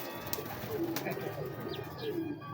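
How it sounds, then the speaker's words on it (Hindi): Chinese pigeons give soft, low cooing calls, fairly faint and repeated in short rolling phrases over a light background hiss. "ये चीनी कबूतर हैं"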